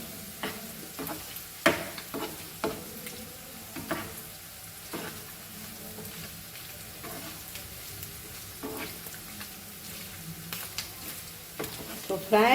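Pork fat sizzles and crackles steadily in a pan while frying pork for Goan sorpotel, with scattered sharp pops and the occasional scrape of stirring.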